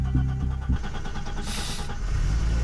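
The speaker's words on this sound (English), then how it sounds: "the engine actually turned" A car engine, just reconnected to its battery, cranks in a few quick rough pulses, then catches and settles into a steady, close running idle.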